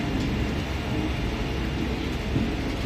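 A train locomotive pulls out of a station with a continuous, heavy rumble, a broad and steady mechanical roar that holds at a fairly loud level throughout, with no voices.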